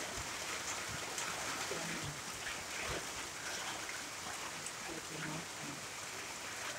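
Light rain falls on an afternoon in Kampung Batang Mitus, Tutong, as a steady, even hiss that fills the background, with a faint voice murmuring now and then beneath it.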